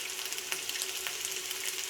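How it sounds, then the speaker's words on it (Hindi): Peshawari chapli kebabs frying in hot oil over medium-low heat, a steady, soft crackling sizzle with a few small pops and no one speaking. "लेकिन किए हुए कबाबों को फ्राई कर लेंगे। ऑयल यहाँ पर गर्म हो चुका है।"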